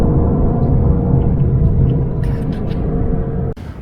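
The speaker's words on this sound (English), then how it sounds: "it has a V12 engine" A 2020 Aston Martin DBS Superleggera's V12 gives a deep, steady rumble from inside the car while it drives on the road, loud and close, with a brief dip near the end.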